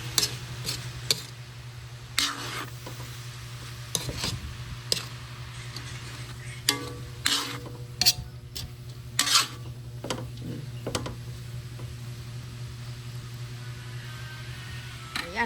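Sautéed bamboo shoots (labong) stirred in a pan: a utensil scrapes and taps against the metal in irregular clicks and knocks over a steady low hum, with a soft sizzle underneath.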